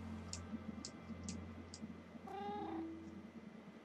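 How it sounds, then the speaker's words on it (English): A Minecraft cat lets out a single faint meow partway through, after a series of soft rhythmic ticking clicks, against a quiet low background hum. "Look, here's my cat."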